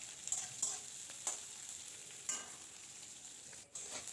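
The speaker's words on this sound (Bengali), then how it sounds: "পেঁয়াজটাকে আগে প্রথমে খুব ভালো করে ভাজা করে নিচ্ছি" Onions frying in a pan for a tomato fry, a steady broadband sizzle with a few brief stirring scrapes, close and continuous, with no one talking.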